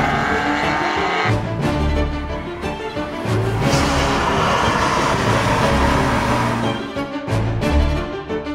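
A Ferrari Roma drives with its engine roaring loudly and steadily close by, the revs rising and dipping, with brief drops in volume around the second and seventh seconds.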